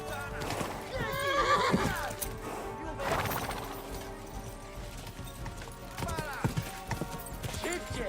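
A horse neighs and whinnies loudly over galloping hoofbeats in Kingdom Come: Deliverance 2, with game sounds and some voices mixed in throughout.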